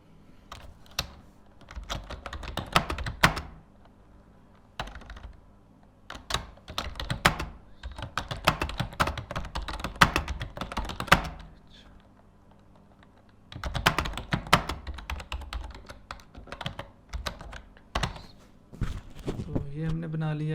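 Keys clatter on a computer keyboard while text is typed into a WordPress page editor, coming in bursts with a few short pauses, fairly close and steady, with no talk over it.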